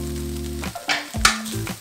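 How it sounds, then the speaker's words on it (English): Butter hits a hot frying pan while chicken fried rice is cooked, giving a sudden hiss and bubbling sizzle that swells and fades in short bursts. "I'm going to bring in our butter."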